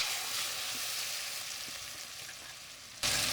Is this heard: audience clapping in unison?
no